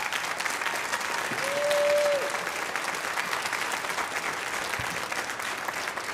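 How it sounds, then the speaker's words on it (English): An audience at a school band and orchestra pre-festival concert applauds the children, a steady wash of clapping throughout with a brief tonal whistle-like sound near the start. "Can we give the kids a round of applause"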